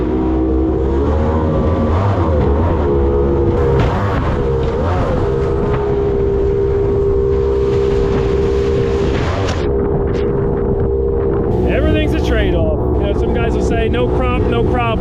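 A SeaArk Predator jet boat runs on a river, its engine roaring loudly and surging as the pump cavitates and sucks air, with wind buffeting the microphone and voices talking over the din.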